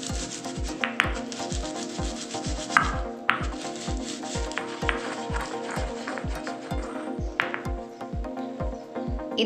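Roasted gram (pottukadalai) being pounded, a steady run of about twenty sharp, evenly spaced thuds with gritty crunching and rubbing between strikes, close and fairly quiet, with no talking.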